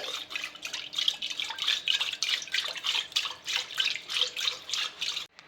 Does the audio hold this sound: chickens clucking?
no